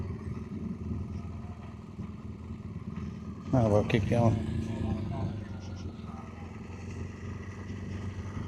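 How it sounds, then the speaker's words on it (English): Steady engine drone of many motorcycles and a few cars riding by in traffic at the Burt Munro Challenge motorcycle event in Invercargill, New Zealand, with a brief burst of talking over the rumble partway through. "Lots and lots and lots of motorbikes and a few cars."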